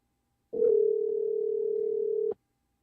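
A steady telephone dial tone sounds while a call is being placed during a live stream, one continuous unbroken hum lasting about two seconds at moderate level, then cutting off cleanly.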